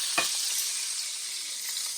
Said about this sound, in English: I'm going to sear the top and the bottom.